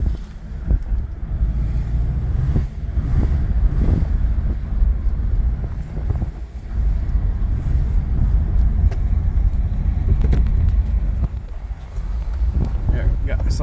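An Austin-Healey bugeye Sprite drives along with a low, steady exhaust rumble under heavy wind buffeting across the microphone, the engine drone constant and fairly loud throughout.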